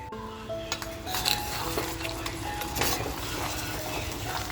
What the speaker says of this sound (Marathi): चिंबोरी आहे ना त्याच्यामध्ये फ्राय करून घेऊया म्हणजे मिक्स करून घेऊया